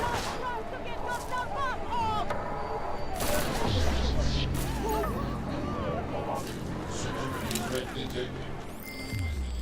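Enemy gunfire in the video game Deus Ex Mankind Divided crackles in scattered shots and bursts under constant talking and game chatter, sitting fairly low in the busy mix.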